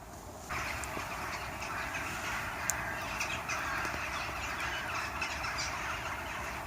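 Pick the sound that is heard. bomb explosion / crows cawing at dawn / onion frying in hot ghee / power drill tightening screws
crows cawing at dawn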